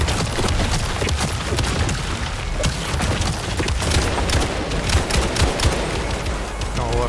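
Sustained turret gunfire in the video game John Carpenter's Toxic Commando, dense rapid-fire shots mixed with booms and chaotic battle noise, loud and continuous throughout.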